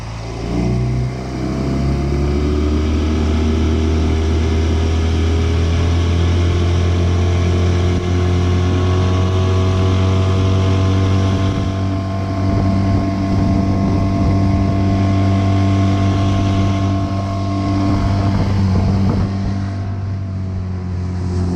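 A recycled skiff motorboat cruises at partial throttle, around 17 to 18 miles an hour, its engine a steady, loud drone with continuous hull and water rush and some wind buffeting, held evenly throughout with no talk.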